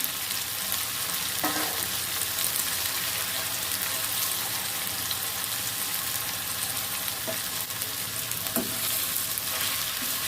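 Bitter gourd pieces frying in a pan with dried chillies and tomato, giving a constant dense sizzle with a few faint stirring knocks, no voices.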